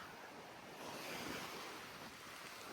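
Soft, steady sea surf washes in on a windy beach, a faint continuous rush of waves with no voices.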